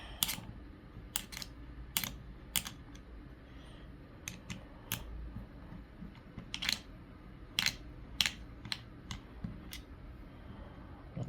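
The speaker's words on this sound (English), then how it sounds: "loosen the 3 hex screws. So let's loosen them" Loosening three hex screws on a WEN metal shear: sharp, brief metallic clicks and ticks scattered irregularly over a low background hum, close and fairly quiet, with no talking.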